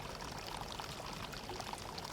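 Water pours in a steady stream from an ancient stone Inca fountain at Machu Picchu, a continuous splashing flow heard alone.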